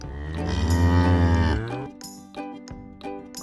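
A cow gives a long, loud, low moo lasting about a second and a half, then a few faint knocks and clicks follow in the quiet.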